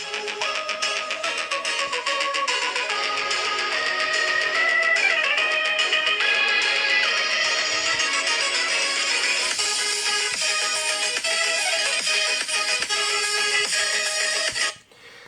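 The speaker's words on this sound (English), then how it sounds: "let me show you how the audio sounds like on this phone. Maximum volume." Music plays at maximum volume through the single small speaker of an Honor Note 8 phone, bright and full, filling the room steadily before cutting off abruptly near the end.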